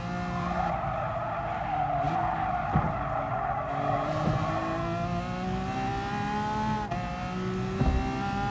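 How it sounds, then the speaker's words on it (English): A race car in Gran Turismo Sport brakes hard into a final hairpin, tires squealing in a long sustained skid over the loud, continuous engine drone, with pitch sliding down as the car slows. "Hard braking into the final hairpin"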